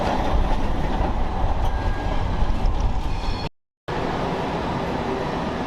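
A tram rolls past on the street in Istanbul, a loud continuous rumble of wheels on rails with faint clickety-clack, briefly cut out partway before the steady roar resumes.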